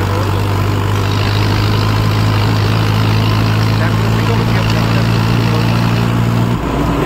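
A Mahindra Yuvo 575 tractor engine runs under load pulling a trolley of about twenty-two quintals, a loud, steady low diesel drone close by that changes abruptly near the end.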